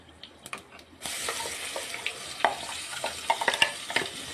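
Roasted, ground coconut spice paste hits hot oil with mustard seeds and fenugreek for a sardine fish curry, bursting into a sharp sizzle after a quiet start, followed by crackling and scraping stirring sounds.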